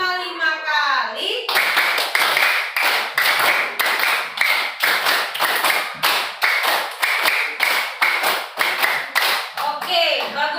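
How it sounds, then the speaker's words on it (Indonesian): A classroom of children claps in a long, steady unison pattern, roughly twenty loud, evenly spaced claps in rhythmic groups, briefly bracketed by a teacher's voice at the start and end. "tepuk 5 kali."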